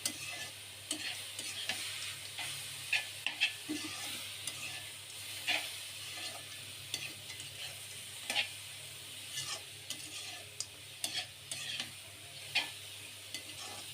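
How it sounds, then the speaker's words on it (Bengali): Radish greens frying alongside fish masala being sautéed in a little oil: a soft, continuous sizzle broken by intermittent sharp scrapes and clinks of a spatula against the pan, fairly quiet and close, with no talking. "এই জন্য ভাজি করে মাছের জন্য মশলাটা কষাইতেছি, আর এ আমার শাক ভাজি যাচ্ছে"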